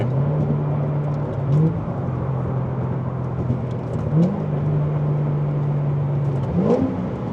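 A stock Chevrolet Corvette C6 ZR1 accelerating hard, its engine holding a loud, steady drone close by, broken by brief surges in pitch around a botched gear change.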